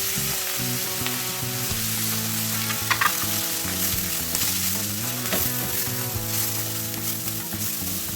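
Onions with chilli, turmeric, pepper and Kashmiri chilli powders fry in a pan for a sausage roast, giving a loud continuous sizzle with scattered stirring scrapes close up, no voices.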